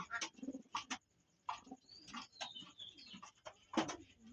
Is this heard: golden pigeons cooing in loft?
yes